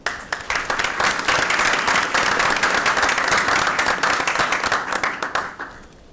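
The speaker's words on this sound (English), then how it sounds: "So let's give them a round of applause as a group." An audience at a city school board meeting applauds a group of students with loud, dense clapping from a crowd. It holds steady for several seconds and then fades away.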